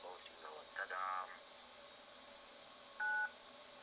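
An answering machine signal tone on a Nokia 5530 mobile phone, a short clean electronic beep near the end, following an earlier brief tone burst over a hissy, noisy background.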